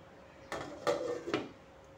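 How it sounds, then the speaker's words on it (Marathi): A metal lid set onto a cooking pot on a stove in a home kitchen, three close clinks in quick succession with a faint ringing tone, then quiet. "झाकण लावून घेते."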